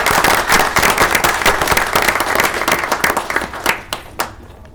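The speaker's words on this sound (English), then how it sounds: "So if you guys can give them a hand clap for what they did." Loud, dense clapping from a crowd at a regular session meeting, steady at first, then thinning into scattered claps before fading out.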